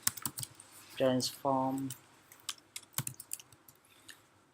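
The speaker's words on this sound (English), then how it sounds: "Let me type that one." Computer keyboard typing, crisp clicking keystrokes in irregular bursts, a few spread out early and a quicker flurry near the end, with a short spoken word partway through.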